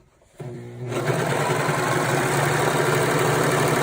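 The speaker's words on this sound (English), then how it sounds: "So you see how when you're finished with the serger, you can't just rip it out." Serger sewing machine running steadily as it stitches fabric for a car trash bag, a loud continuous mechanical whir that starts abruptly and holds without pause, with no talking.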